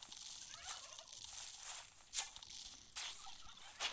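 A turkey gobbles in quick, faint bursts over a soft background from Plants vs. Zombies 2, with a couple of sharper gobbles toward the end.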